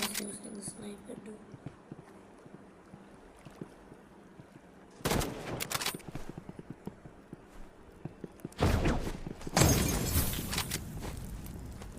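Burst rifle fire in a first-person shooter video game, with loud, tight clusters of rapid shots arriving in two main volleys over faint background game sounds.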